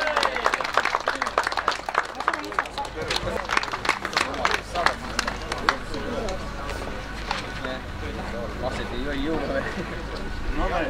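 Sustained crowd applause greets the top three finishers of the MX Open E class at a 2016 TOP200 motocross cup awards ceremony in Põlva, steady clapping from a gathered audience with a voice talking over it.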